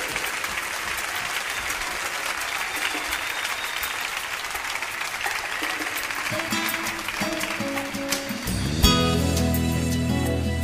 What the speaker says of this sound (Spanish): ¡Dale fuertes aplausos al rey!